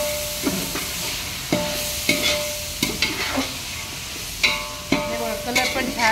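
Mixed legumes, peas, chickpeas, cowpeas and peanuts, frying in a pan for khichdi, a steady close sizzle broken by repeated clattering spoon stirs and knocks against the vessel every second or so.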